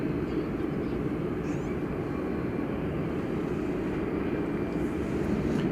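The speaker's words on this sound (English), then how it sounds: "Here we have American 1242. It's an Airbus A321." An American Airlines Airbus A321 jet at DFW Airport at night gives a loud, steady engine roar that holds evenly from start to finish, with no voices over it.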